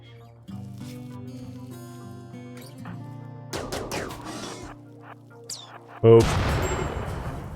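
Gunfire from a firefight in RimWorld: scattered shots over steady background music, with a denser burst midway and a loud crash of fire near the end.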